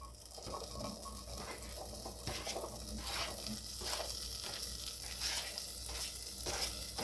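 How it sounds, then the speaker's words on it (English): Chopped onion, half of a large one, sizzles in a pan for a creamy potato soup. The frying crackle is steady and close, with faint stirring taps and spatters throughout. "we're going to go ahead and add in our onions"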